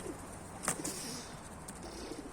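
Homing pigeons coo softly at a distance as a female Baska pigeon is released outdoors, with a brief flutter of wings and a low, steady background hum.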